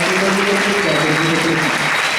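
Audience applause at a madrasah installation ceremony, steady dense clapping throughout, loud and close.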